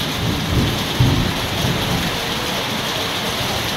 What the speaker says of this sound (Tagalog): Oh my gosh, kumukulog-kulog.